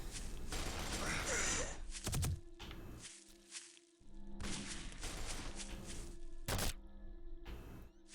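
An automated turret in Shadow Man Remastered fires in bursts of rapid gunfire amid game thuds and mechanical noises, with someone talking over parts of the action.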